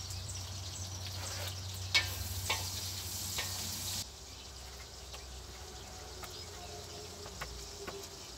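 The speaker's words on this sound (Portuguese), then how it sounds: "Agora vão estar fritando a carne." A steady, crackling sizzle of pork frying in hot lard, with sharp pops here and there, close by and continuous.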